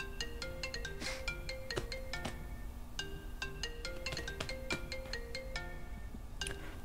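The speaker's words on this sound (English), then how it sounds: "Phone can just freaking ring until my heart settles down." A mobile phone rings continuously with a bright, melodic ringtone of short repeated chiming notes in a quick looping pattern, clear and fairly close.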